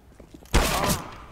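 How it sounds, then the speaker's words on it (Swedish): A sharp gunshot blast in Counter-Strike: Global Offensive deathmatch cracks in loud and close, followed by a dense ringing tail and a second burst before it fades. "Men jag skjuter ändå. Jag skjuter det bra så hoppas att jag ska träffa."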